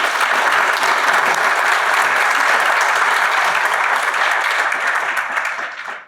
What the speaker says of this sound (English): I just would love for everyone to give this crew a round of applause